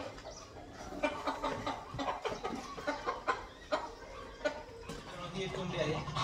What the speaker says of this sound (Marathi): ही एक कोंबडी आहे